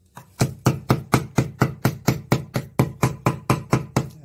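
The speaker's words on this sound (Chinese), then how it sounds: "剁到咁上下咧，就放啲鹽落去，繼續剁。" A cleaver chops pork and chive dumpling filling on a board in a fast, even rhythm of about sixteen loud, close thuds, with no one speaking.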